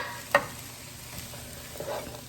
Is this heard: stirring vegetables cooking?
yes